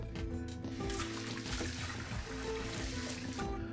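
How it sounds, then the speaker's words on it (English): Hands washed under a running kitchen tap, a steady, fairly quiet splashing flow that continues without pause. "Let me wash my hands."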